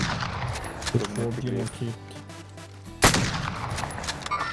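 Sharp bursts of gunfire crack in a Call of Duty: Warzone match, a few quick shots followed by a loud blast near the middle, mixed with game sounds while players talk over the action.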